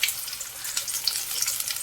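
Onions fry in oil with a continuous bright crackle and sizzle, close and fairly loud, with small irregular pops throughout and no talking.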